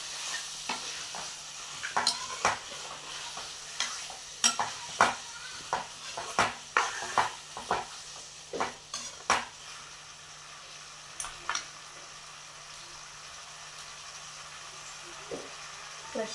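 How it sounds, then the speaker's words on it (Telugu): Mutton frying in oil while a spoon stirs it, a low steady sizzle beneath a series of sharp, regular scraping strokes against the pan that thin out and stop partway through. "మనకి ఆయిల్ అంతా పైకి వచ్చి ఎంత బాగా ఫ్రై అవుతుందో."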